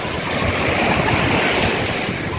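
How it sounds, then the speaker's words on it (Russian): Storm waves roll and break on the Sea of Azov shore at Golubitskaya, a loud steady surf wash with wind buffeting the microphone throughout. "Крутые волны."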